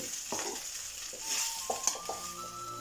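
Rice with crispy fried onions gets stirred in a hot pan, a soft steady sizzle carrying a few scraping knocks from the spoon, close and moderately quiet with no talking.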